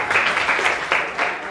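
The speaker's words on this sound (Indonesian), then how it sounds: "Tepuk tangan buat Pak." Short burst of classroom applause for a student during a project-based lesson, several hands clapping together in a steady patter, fairly close and moderately loud, with a faint voice underneath.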